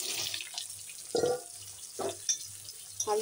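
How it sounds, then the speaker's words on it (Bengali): Potatoes slid into hot oil with fried cumin and bay leaves sizzle steadily up close, broken by several louder splattering bursts; no one speaks. "এই যে আলু আস্তে করে দিয়ে নিই, তেল ছিটে।"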